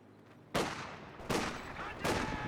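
Grenadier rifle fire in a Company of Heroes 2 battle: three loud, sharp broadband shots roughly a second apart, each with a short rumbling tail, over a low background with no talk.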